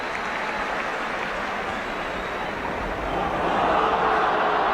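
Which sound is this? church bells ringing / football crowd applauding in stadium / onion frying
football crowd applauding in stadium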